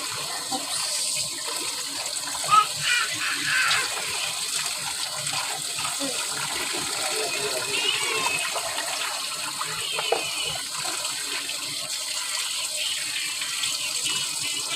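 Tap water runs steadily while vegetables are rinsed by hand for pork sinigang in a home kitchen, a continuous hiss and splash with small knocks, fairly close and alone throughout.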